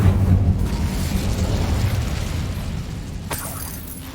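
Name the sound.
Incendio fire spell being cast, from the video game Hogwarts Legacy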